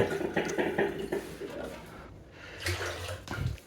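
Water poured out for brewing tea in a home kitchen, a broad splashing wash that comes and goes across the stretch, fairly close and moderately loud.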